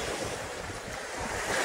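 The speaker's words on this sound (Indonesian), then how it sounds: "Ini ombak kalau lagi surut kayak gini ya" Ocean surf at low tide on Teleng Ria beach rolls in as a steady, loud, broadband wash, with wind buffeting the microphone throughout.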